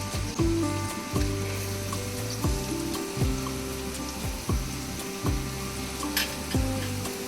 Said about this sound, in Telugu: మనం ప్రిపేర్ చేసుకున్న పచ్చి మసాలా ముద్ద కూడా వేసేసుకోవాలి.